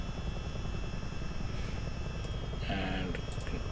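A Miltech CH-47D Chinook helicopter in the MSFS flight simulator gives a continuous, loud, close rotor drone with a rapid, rhythmic blade-slap chop. A faint tonal whine rises near the end.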